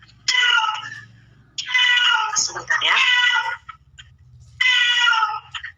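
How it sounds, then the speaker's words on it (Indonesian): A cat meows loudly three times in long, drawn-out cries with pauses between them, close by indoors, and a person says a few words in the gap. "Kucing ini."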